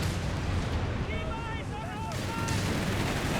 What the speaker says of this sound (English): Another packs consumed by high explosives and smoke shells there, courtesy of the mortar pits.